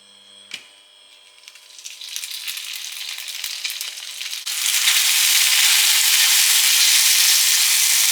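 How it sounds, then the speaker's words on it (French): Tteokbokki frying in toasted sesame oil, starting with a few faint clinks before a steady broadband sizzle rises and then jumps to a loud, continuous hiss that fills the rest of the clip, with no voices. "Je vais faire griller mes tteokbokki dans un petit peu d'huile de sésame grillée."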